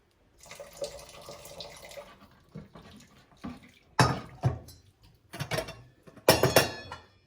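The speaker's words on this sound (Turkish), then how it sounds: "Şöyle azıcık bir su koyayım." A little water poured in while making kısır, a bulgur salad, heard as brief splashing pours and trickles in a kitchen, close and moderate, separated by short pauses, with no talk.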